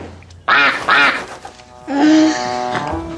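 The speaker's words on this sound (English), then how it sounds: "Please tell me that was the duck." A duck in a movie scene quacks twice in quick succession, loud and close, followed by a longer, drawn-out honking quack.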